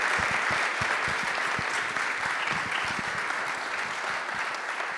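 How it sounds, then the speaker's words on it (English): Enthusiastic applause from an audience at an esports panel forum, dense clapping that holds steady for several seconds and fades slightly toward the end. "a big round of applause for everyone here on stage"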